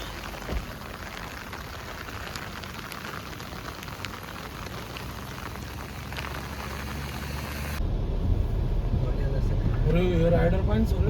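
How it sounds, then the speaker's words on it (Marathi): Steady rain falling outdoors in the hills around Igatpuri, a constant broadband hiss that thickens toward the end, with people talking over it and a low engine rumble underneath. "मस्त पाऊस चालू झालाय काय आता"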